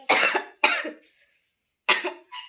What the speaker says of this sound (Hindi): देखिए मैं कितना मैं खांस रही हूँ